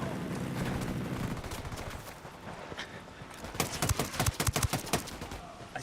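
Sniper and rifle gunfire in Ghost Recon: Wildlands, with a run of sharp, loud shots clustered toward the end over a busy game soundscape.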